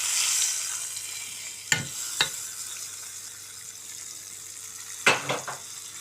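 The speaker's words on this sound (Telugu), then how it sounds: "తాలింపు అయితే వేస్తున్నాను." A curry-leaf tempering crackles in hot oil for a brinjal and curd chutney, with a steady close sizzle, a few sharp spatters and stirring clatters, and no talking.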